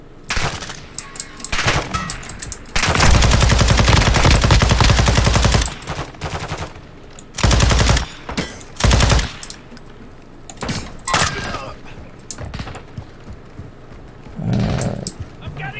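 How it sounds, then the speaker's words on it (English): Call of Duty DMZ gunfire: loud, sustained bursts of automatic fire alternating with shorter volleys and single shots, with intermittent in-game voices between them. "Taking effective fire!"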